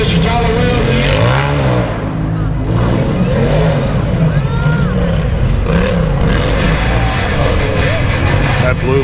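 Side-by-side off-road vehicles rumble and rev together at the start line of a hill climb race. The engines run loud and steady throughout, with a voice talking over them.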